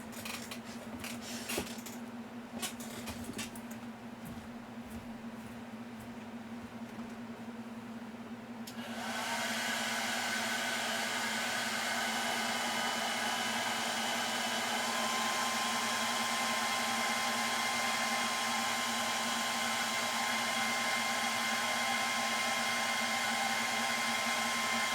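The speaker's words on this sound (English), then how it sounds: "So you run the hair dryer in this real quick." A few faint clicks and rustles, then a hair dryer switches on and blows with a steady, loud, close whoosh until the end.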